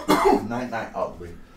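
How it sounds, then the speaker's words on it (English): One person coughs harshly a few times in quick succession, close to the microphone, then lets out a rougher throaty hack, all within a second and a half. "You got me coughing now."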